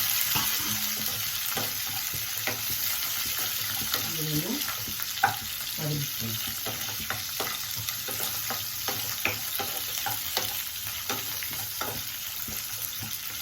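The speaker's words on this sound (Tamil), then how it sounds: "அதோட ரெண்டு ரெண்டு பச்சை மிளகாய் அதையும் போட்டு கொஞ்சம் நல்லா வதக்கிக்கலாம்" Orange peel and green chillies sauté in a hot pan, giving a steady sizzle broken by repeated scraping stirs and occasional clinks of the spatula, close and moderately loud with no talking.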